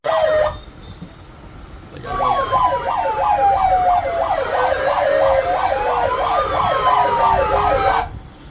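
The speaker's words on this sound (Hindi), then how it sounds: "वो हूटर चेकिंग हो रही है" A loud police-style siren being tested on a modified Mahindra Scorpio S11 starts, pauses, then wails and yelps in fast rising-falling cycles, with a second tone layered over it, close by.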